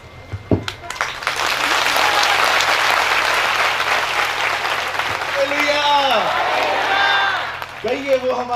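Loud, sustained applause from a church congregation clapping for Jesus fills the room, then fades as a voice begins speaking near the end.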